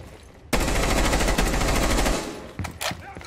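Rainbow Six Siege pre-fire: a sudden, loud burst of rapid automatic gunfire runs for about a second and a half, then tails off, followed by a few scattered shots and clatter.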